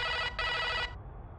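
An old telephone's bell rings in a soccer cartoon, two loud bursts of bright ringing split by a short gap, then a fainter tail fading out.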